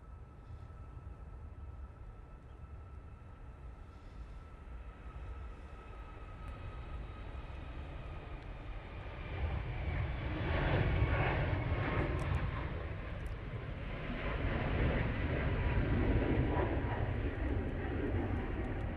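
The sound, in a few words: TUI Boeing 737 MAX 8 taking off, engines roaring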